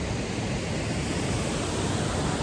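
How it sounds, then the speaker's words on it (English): Small waterfall beside a campsite in Rocky Mountain National Park, a steady broad rushing hiss of falling water, close and continuous with no breaks. "So I'm passing by that little waterfall again,"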